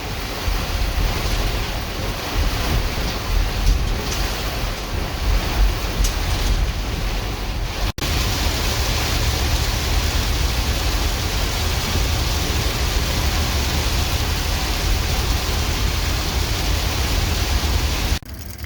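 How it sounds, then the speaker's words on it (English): Steady, dense hiss of heavy rain, loud and continuous with no voices, briefly interrupted by a click partway through. "listen to this rain with me, will you?"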